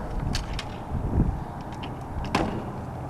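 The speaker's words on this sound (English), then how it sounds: "Step system slides into a receiver system, and the handrail drops into place" The step system on a Decon Interceptor II decontamination trailer slides into its receiver and the handrail drops into place, giving a few separate metallic clunks and knocks against quiet outdoor background.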